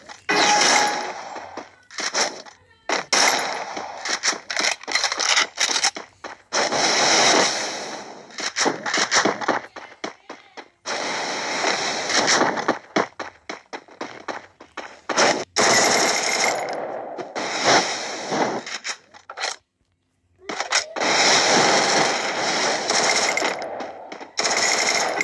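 Rapid bursts of automatic gunfire from a shooting video game, loud and close, with dense rattling volleys broken by brief pauses and a short silence near the end.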